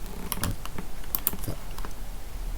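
Fingers tap a computer keyboard during 3D modelling and unfolding of a pyramid box, giving a quick run of close, crisp keystrokes with a few sharper clicks, with no talking.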